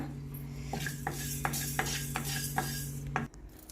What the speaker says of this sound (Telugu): ఇంత లోపల మనం ఒక స్పూన్ అంత మెంతులు వేయించుకుందాం దోరగా